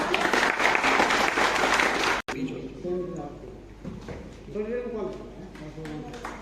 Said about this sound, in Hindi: उनके लिए तालियों से स्वागत करें